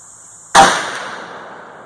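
A single crisp, loud rifle shot from a .450 Bushmaster at a shooting range, a sharp crack with a long fading echo and no talk.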